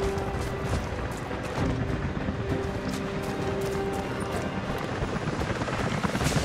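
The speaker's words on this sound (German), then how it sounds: "Jacob, Helikopter sind unterwegs zu Ihnen." A helicopter in the video game Rise of the Tomb Raider drones steadily with a continuous rotor roar and rumble, fairly loud and unbroken, with no speech over it.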